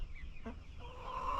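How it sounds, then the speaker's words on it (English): Farm chickens cluck nearby, a short quiet clucking call over low background rumble, followed by faint bird chatter. "Let's feed some chickens."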